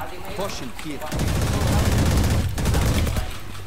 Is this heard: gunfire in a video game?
yes